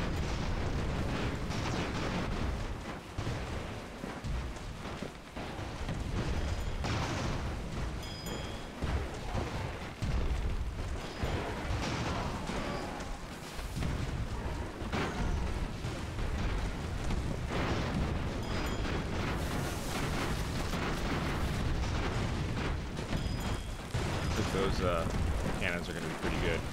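Airship cannons in Airships: Conquer the Skies fire in repeated booming bursts throughout a busy battle, with players talking over the dense, continuous barrage.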